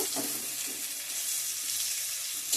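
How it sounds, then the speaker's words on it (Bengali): Dried fish and onions frying in a pan, a steady, close crackling sizzle with faint stirring, heard alone without any talk. "শুকি মাছ পেঁয়াজ ভালো করে ভাজা হয়ে গেছে"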